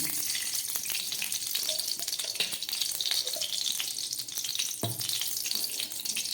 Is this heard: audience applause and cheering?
no